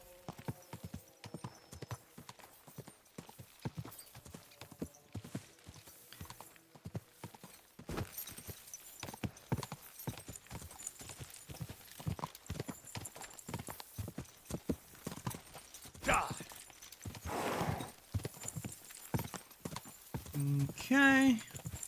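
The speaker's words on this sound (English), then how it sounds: "Easy, good horse." Horse hooves clip-clop during riding in a video game, a fast, irregular stream of hoofbeats that grows busier and louder partway through. A whinny and other game sounds come in near the end.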